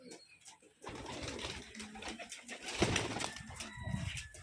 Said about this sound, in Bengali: দেখুন কবুতরগুলো মাশাআল্লাহ অনেক সুন্দর।